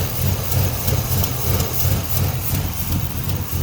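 A swapped V8 idles in a 2006 GMC Sierra 1500 pickup, running rough with a vacuum hose disconnected; a steady, close, low rumble with a slight pulsing throb continues throughout, with no talking.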